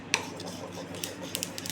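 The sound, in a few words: stirring peanuts roasting in a pan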